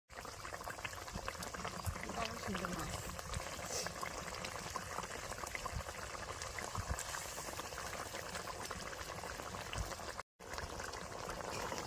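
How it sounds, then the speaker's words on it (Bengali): A village-style fish curry with potato and green banana simmers over a wood fire, giving a steady, close bubbling and hiss that carries through the whole stretch with no talk. "তরকারিটা ভালো মতো জাল করে নিছি বেশ সুন্দর কিন্তু ফুটে উঠছে"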